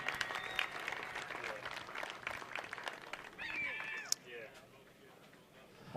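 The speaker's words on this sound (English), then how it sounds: "Let's get him some big round of applause." Outdoor crowd at an aerobatics competition applauds a freestyle pilot, a loose scattered clapping that is fairly distant and faint, tapering off near the end, with voices mixed in.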